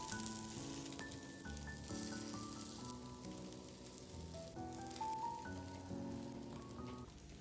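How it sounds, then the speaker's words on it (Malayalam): Snack pieces frying in oil in a pan, an easy evening snack, give a steady, continuous sizzle, with background music running over it and no speech. "ഓരോന്നായിട്ട് നമുക്കിതൊന്ന് ചെറുതായിട്ടൊന്ന് മൊരിയിച്ചെടുക്കണം"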